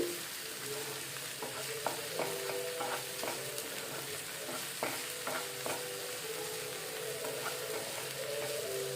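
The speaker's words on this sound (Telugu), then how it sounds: "ఇది బ్రౌన్ కలర్ వచ్చే వరకు అలా వేయించుకుంటానే ఉండాలి" Goat brain frying in a pan until brown, a steady soft sizzle with occasional stirring scrapes and clinks, close and continuous with no talking.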